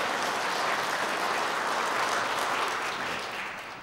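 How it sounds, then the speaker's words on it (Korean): Church congregation applauding a returning member during a Sunday service, a dense, steady wash of many hands clapping that fades slightly toward the end, with no talk over it. "여러분들 격려의 박수 부탁드리겠습니다"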